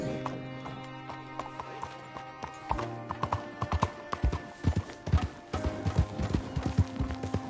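Rhythmic clip-clop of horse hooves trotting steadily in the video game Red Dead Redemption 2, with a short whinny near the start, set against a steady musical hum in the background.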